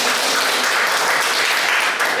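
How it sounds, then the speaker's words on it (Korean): Loud, dense applause from a lecture audience at an education center talk, a continuous unbroken roar of many hands clapping for a couple of seconds. "박수도 한번"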